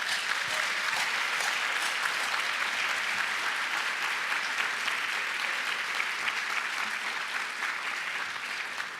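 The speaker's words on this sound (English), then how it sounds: "join me in a collective applause and a big congratulations to the 15 deserving recipients" Sustained, dense applause from an awards event audience honoring recipients, a loud even wash of many hands clapping that tapers slightly at the end.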